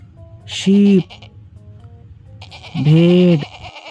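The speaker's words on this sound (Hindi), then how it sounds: "शीप" A sheep bleats twice, loud and close, with a short wavering baa early and a longer one near the end and quiet pauses between.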